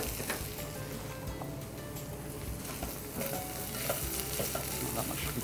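Sweet potato tumbles into softened, translucent onion frying in a pot, with a continuous sizzle, clacks of stirring and scraping, and a few brighter pops toward the end.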